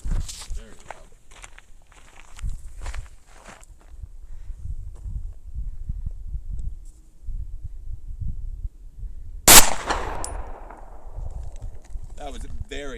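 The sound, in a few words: gunshots fired outdoors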